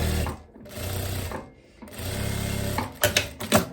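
A sewing machine stitches together the two pocket pieces of a loose viscose dress with ruffles, running in steady bursts with short pauses between them and a few sharp clicks near the end, close and clear.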